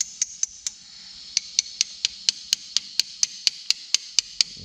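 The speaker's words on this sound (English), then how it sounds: "And kind of tap it on there." Light metal taps seat a valve stem seal onto a Mitsubishi 6G72 V6 cylinder head, about fifteen sharp, evenly spaced clicks in a steady rhythm, close and distinct against a quiet background.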